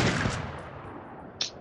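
Gunfire in a shooter video game tournament match: a few sharp, fairly faint shots, one early and a crisper burst near the end, over a low background hiss.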